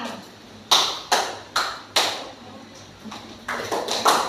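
Sharp hand claps in a group clapping game, about nine in an uneven rhythm: a loud spaced burst of five, a short pause, then a quicker cluster of four at moderate distance with no talk over them.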